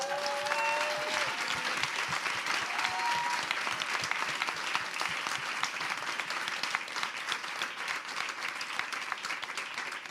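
Audience at a climate justice event applauding in a continuous, lively wash of claps, with a few cheers and whistles rising above it.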